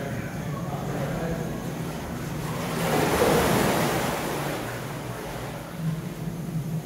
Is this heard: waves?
yes